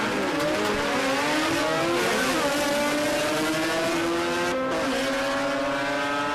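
A Datsun 1000 drag car with a 12A rotary engine races down the strip, a loud buzzing rotary wail climbing through gear changes, heard from a distance over crowd noise.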